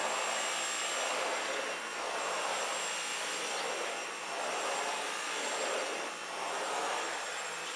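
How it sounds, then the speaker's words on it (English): A Dyson V11 cordless vacuum cleaner running in a home, a loud steady whirring suction roar with slight swells as it moves, continuous throughout without speech. "I never thought I'd be vacuuming on Christmas morning"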